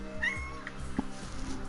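A single drawn-out cat meow rises and falls near the start, followed by a couple of softer chirps, all over a steady low droning hum.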